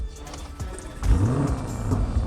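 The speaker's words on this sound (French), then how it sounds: "Et ça, c'est le bruit que tu entends quand tu allumes en fait, le moteur." A Lamborghini Urus engine fires up with a low rumbling surge about one second in, then settles into a steady, deep idle that stays close and fairly loud for the remaining seconds.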